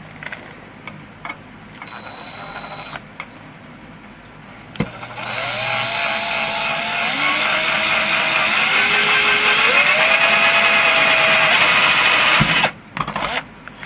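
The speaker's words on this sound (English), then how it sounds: "some people will tell you to put a wooden block underneath this so you don't accidentally drill on whatever your surface is" A power drill bores through the metal of an original Xbox console case. A few brief starts are followed by a long, loud whine that rises in pitch as it speeds up, then stops abruptly.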